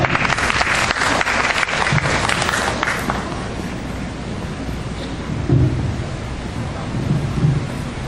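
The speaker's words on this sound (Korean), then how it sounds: "큰 박수로 부탁드리겠습니다" Loud, dense applause from an audience of parents at a school curriculum briefing, filling the hall at first and then thinning into scattered clapping.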